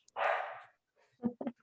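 A puppy lets out a drawn-out whining yelp followed by two short, sharp barks, close by in an otherwise quiet room.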